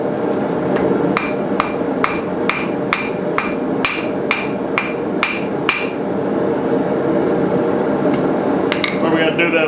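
A blacksmith hammers a small letter-opener sword on an anvil, about a dozen sharp, ringing metallic strikes in a quick, even rhythm, loud and close over a constant roaring forge background.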